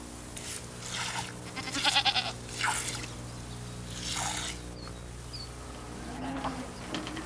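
A domestic goat bleats several times at moderate distance against a steady outdoor hum, with buzzing insects and scattered faint clicks between the calls.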